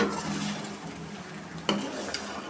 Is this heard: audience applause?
no